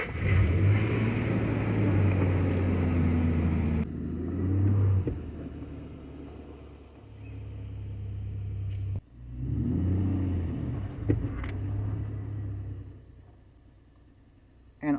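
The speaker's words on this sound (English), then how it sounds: "I'm gonna turn on the vehicle right now and see and drive it a little bit" A Nissan Pathfinder 4.0 4WD engine turns over and runs, idling with a steady low rumble that swells and eases as the vehicle is driven a short way, with a few clicks and knocks and no talking.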